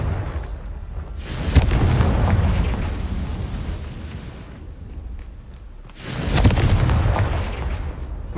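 Confringo spell explosions in the video game Hogwarts Legacy, two loud booming blasts with rumbling tails, roughly five seconds apart, no talking.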